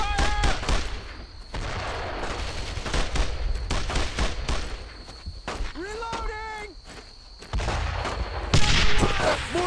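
Rifle and machine-gun fire crackles in a World War II battle in the game Brothers in Arms, with bursts of shots, footsteps and shouted soldier voices mixed throughout and a louder volley near the end.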